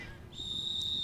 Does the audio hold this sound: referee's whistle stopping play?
yes